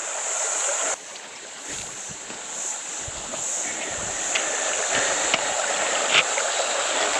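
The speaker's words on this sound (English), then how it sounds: "hang a sharp left and here we have the creek" A creek in Northbrook Gorge flows in a steady, close rush of water, with a few light knocks and splashes scattered through it.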